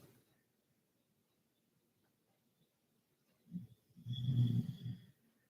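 Quiet stillness, then a couple of low, rumbling snores from a dog close by, the second longer and louder with a raspy, snorting tone.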